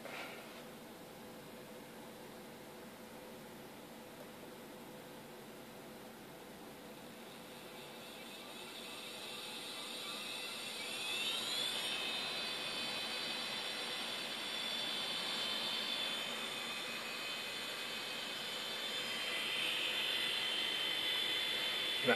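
A hard drive spindle motor driven by a BLDC controller spins up, a faint whine rising slowly in pitch over a steady hiss until it settles into a continuous high tone near 5400 RPM, heard alone without talk.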